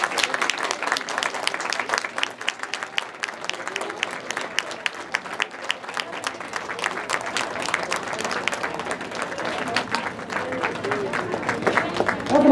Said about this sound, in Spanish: No dejen de aplaudir